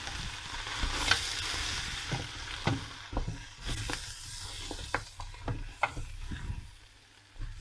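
Flour is stirred into a pan of browned bones and vegetables for jus, with a soft sizzle underneath and a series of irregular scraping and tapping strokes, close and fairly quiet, no talking.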